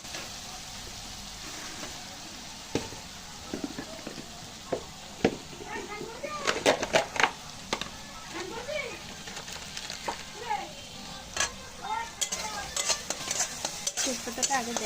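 Meat being stirred into spiced masala in a hot pan, with steady sizzling and repeated scraping, clinking strokes of a spoon against the metal, close and fairly loud.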